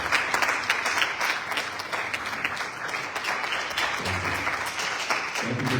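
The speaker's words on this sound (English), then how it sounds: "Let's give them a round of applause for this stand." An audience at a community summit gives clergy members a round of applause, a steady burst of many hands clapping that fills the room and continues throughout without talk.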